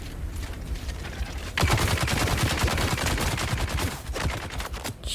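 Rapid gunfire in the video game Dune Awakening, with a quiet lead-in followed by a sudden loud burst of repeated shots that continue densely for several seconds with only brief dips.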